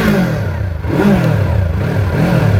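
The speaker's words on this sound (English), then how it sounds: "The exhaust has very nice burbles and pops and cracks." A Yamaha MT-03 twin-cylinder motorcycle engine with a cross-plane crankshaft revs up and down in loud, close surges, the exhaust giving a throaty burbling note throughout.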